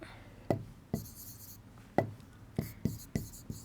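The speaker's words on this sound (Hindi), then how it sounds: "यहां लिख रही हूं मैं" Chalk or marker taps and scratches against a board in a biology class, giving about eight sharp, close strikes at uneven intervals, each followed by a short scraping stroke.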